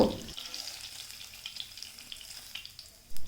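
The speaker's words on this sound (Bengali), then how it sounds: "যে পনিরের টুকরোগুলো কেটে রেখেছিলাম সেই টুকরোগুলো আমরা হালকা করে ভেজে নেব" Paneer pieces fry lightly in hot oil for a chickpea and paneer masala, giving a soft, steady sizzle close by with a few faint stirring scrapes and a brief clunk at the end.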